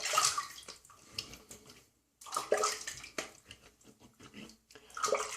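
Close splashing of water as a face is rinsed after shaving with a RazoRock Stealth slant razor, coming in several bursts separated by brief pauses, with no talking.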